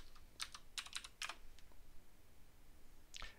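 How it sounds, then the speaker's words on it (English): Computer keys are tapped in short bursts as a command is typed to install WSL on Windows 11, a few quick clicks, a pause and a final keystroke, quiet and close. "to install the WSL system, you just type WSL space dash dash"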